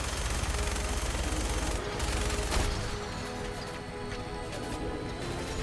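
Gunfire rattles in Fallout 4 over a rumbling game soundscape, with a couple of sharp, louder shots standing out midway and scattered smaller reports after.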